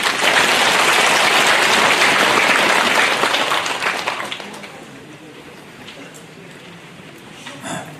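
Audience applause at a rally on settling past injustices, warmly welcoming a forum co-representative to give opening remarks; loud dense clapping for about four seconds, then tapering off into a quieter room with scattered claps.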